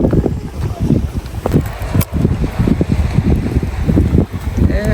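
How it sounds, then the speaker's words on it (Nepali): Cold wind blowing at the seaside on the rocks of Lighthouse Park in West Vancouver, roaring steadily and loudly across the microphone with low gusty buffeting throughout. "यस्तो शीतल भएको है समुद्रको छेउमा चिसो हावा।"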